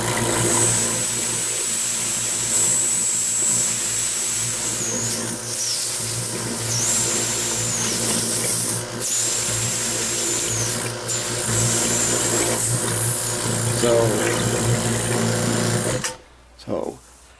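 A small vacuum pump runs with a steady, loud mechanical drone and faint sucking hiss, held continuously for many seconds before cutting out near the end.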